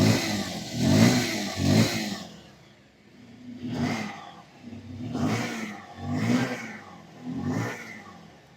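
A 2025 Bajaj Pulsar 150 twin-disc motorcycle, 150 cc, revved repeatedly: about six rising and falling throttle blips with a dull exhaust note, close by and alone.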